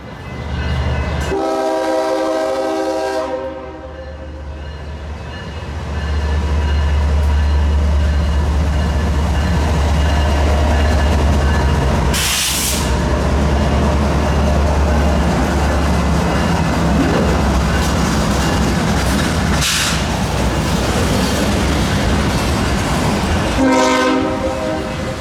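A train passes close by on a Western Washington railway, blasting its horn in several long blasts over a heavy rumble and clickety-clack of wheels on rails that builds and holds loud throughout.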